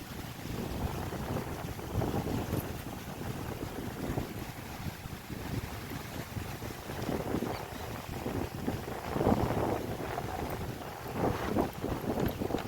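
Strong storm wind roars and buffets steadily throughout, gusting harder now and then, with a rushing, watery wash beneath it and no voices.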